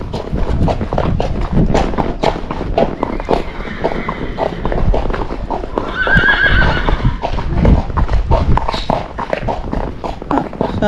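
A Tennessee Walking Horse, a gaited breed, whinnies loudly while its hooves clip-clop in a steady walking rhythm throughout, close by and prominent.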